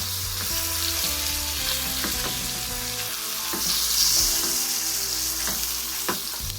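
A pork chop fries steadily in a pan with a loud, continuous sizzle that stays close and even throughout. Occasional scrapes and shifts sound over it, and no one speaks.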